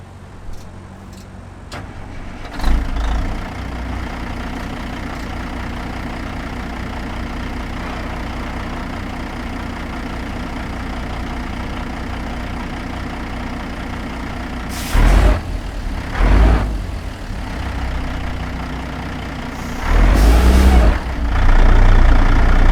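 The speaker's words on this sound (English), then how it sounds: "Just so you can hear the cat engine of this thing." A Caterpillar diesel truck engine in American Truck Simulator cranks and starts, then settles into a loud, steady idle heard from outside the cab, with sharp hissing air-brake bursts later on.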